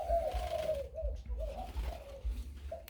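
Caged pet birds, wild-caught stock being sold off, coo in repeated soft, rolling phrases, fairly close and steady against a low rumbling background.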